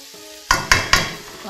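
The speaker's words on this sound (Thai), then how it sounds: "ผัดให้เข้ากันนะคะ" Tofu, bacon and shiitake mushrooms being stir-fried with sugar in a hot pan, three loud scraping stirs over a steady sizzle, close up with no talking.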